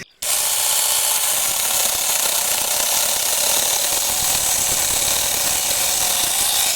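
Konsun cordless saw cutting, a loud close harsh buzzing that starts abruptly and runs steadily without a break.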